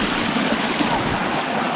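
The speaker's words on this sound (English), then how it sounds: "Waterfalls." Steady broadband rushing of a river waterfall, constant and fairly loud, with no voices.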